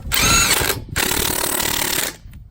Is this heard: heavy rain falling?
no